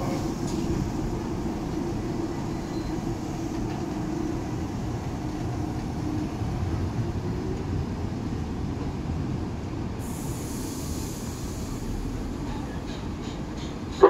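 A KRL Commuterline ten-car commuter train rumbles at a Jakarta station, a steady low roar of wheels and motors holding throughout, with a brief brighter tone near the end.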